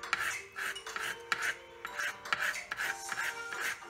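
Potatoes being sliced thinly by hand with a small knife, giving a steady run of short, rhythmic scraping cuts, close and fairly quiet, with no talking.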